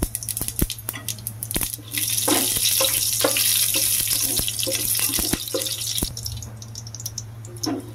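Soya chunks and biryani spices fry in a pan, a close steady sizzle broken by sharp clicks and knocks of stirring, running continuously without any voice.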